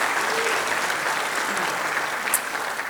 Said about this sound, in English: Please give all of our sponsors a round of applause